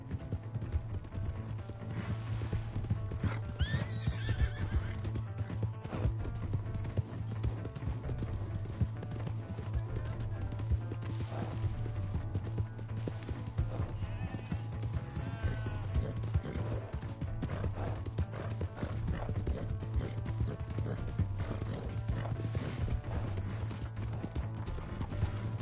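Horse galloping in the Red Dead Redemption video game, steady quick hoofbeats under a constant low game soundtrack, with no clear voices.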